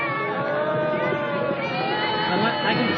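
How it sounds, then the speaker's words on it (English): A parade crowd at the La Palma Days Parade in 1992 keeps up a loud, continuous roar of cheering and shouting voices, dense and steady throughout with no single voice standing out. "the viewers will hear a loud roar go up from the crowd"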